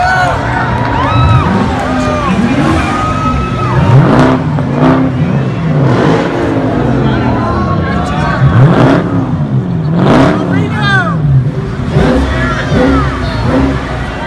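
Supercars rev repeatedly at the start of the Gumball 3000 rally, loud and near, with rising and falling engine sweeps over crowd noise and voices talking.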